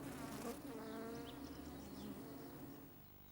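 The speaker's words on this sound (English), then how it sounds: "Bees" Bees buzz in a country cottage garden, a continuous faint droning hum with wavering pitch, steady over a quiet outdoor background with no talk.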